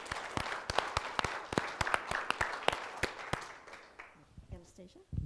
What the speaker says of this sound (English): let's clap it up just a little